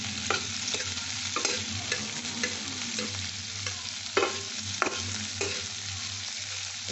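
Steady broadband sizzle of chopped onions stir-frying, with repeated scraping and stirring clatters from a spatula in a pan, close and continuous, no talking.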